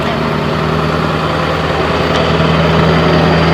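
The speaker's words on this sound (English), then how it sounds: "We'll let the diesel go by, then we'll keep talking." A diesel truck with a 6.0 engine and straight pipe exhaust rumbles past close by, a steady loud low drone with a strong engine hum that swells slightly as it goes by, with no talking.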